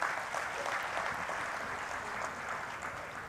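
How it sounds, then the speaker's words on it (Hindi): Steady applause from an audience welcoming singers at a tribute concert, a fairly faint, even wash of clapping that holds without break for a few seconds. "तालियों की गूंज के साथ हम उनका स्वागत करते हैं"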